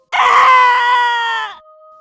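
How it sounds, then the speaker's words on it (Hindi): A man lets out one loud, sustained, terrified scream in a horror story, close and strained, lasting over a second before cutting off into silence with a faint lingering tone. "रोहन ये देखकर बहुत जोर से चिल्लाया"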